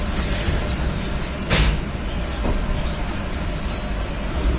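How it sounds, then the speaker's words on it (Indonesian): Mutiara Timur train arriving at Rogojampi station, a continuous low rumble of rolling railcars with a brief hiss and a few clanks, moderately loud and steady, without talk. "kereta api Mutiara Timur telah tiba di stasiun Rogo"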